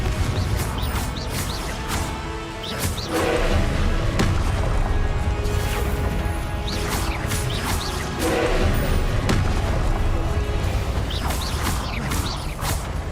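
Repeated fiery Confringo spell blasts in Hogwarts Legacy burst and crash one after another across a busy magical fight, loud and close, each with a whooshing impact over a dense rumbling background.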